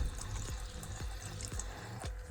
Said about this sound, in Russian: Когда вы моете смеситель, сполосните его водой, чтобы смыть остатки пасты